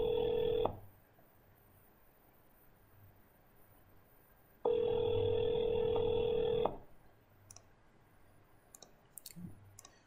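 Outgoing call ringback tone on a phone line, two steady rings each about two seconds long separated by a long silent gap, followed by faint clicks.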